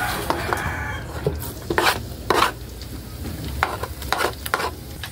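Garlic dropped into a hot pan, frying and sizzling with occasional stirring scrapes, for a Filipino sautéed banana heart dish. A steady close crackle continues throughout with a few louder bursts, and nobody speaks.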